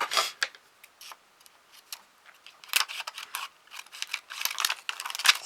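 Scissors snip through paper ribbon at a craft table while assembling a decorated pocket letter, giving quick, light, close snipping clicks in uneven bursts, with no speech.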